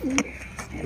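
A racing pigeon coos close and loud in a loft, a single low throaty call followed by a softer second coo.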